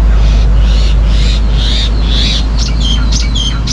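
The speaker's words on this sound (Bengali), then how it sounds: "সাথে পাখির ডাক।" Birds chirp and tweet in repeated bursts on a morning ride out of a town on a cycling trip from Kashmir to Kanyakumari, heard over a steady low rumble of wind or traffic.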